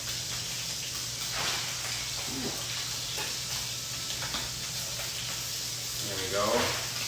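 Shrimp frying in a pan while grilled cheese sandwiches are being made, a continuous soft sizzle with faint clinks and stirring, and someone talking over it now and then.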